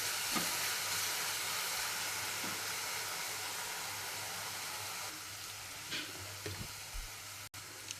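Green chillies and garlic fry in hot oil, giving a dense, continuous sizzle that slowly eases, with a few soft knocks from stirring near the end and no talking.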